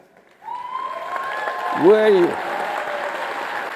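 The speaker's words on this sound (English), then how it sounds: "Let's give a big applause for her" A crowd applauds steadily after a voice briefly speaks, with the clapping continuing at moderate level and a tonal whistle-like sweep rising and falling midway.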